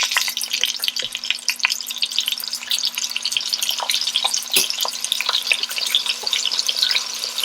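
Short ribs sear in a crowded pan, a few pieces per batch, giving a steady, close, moderately loud sizzle with scattered crackles and pops and no talk over it.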